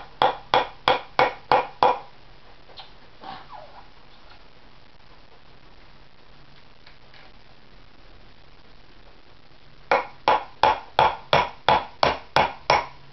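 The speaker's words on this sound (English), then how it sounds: "use the same hammer and just" A hammer drives a new handle into an axe head, with rapid evenly spaced sharp metallic strikes in a burst of about seven, a quieter pause with faint knocks, then another run of about ten blows, close and loud.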